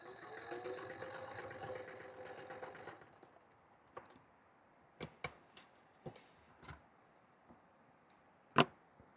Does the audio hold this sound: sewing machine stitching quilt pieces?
yes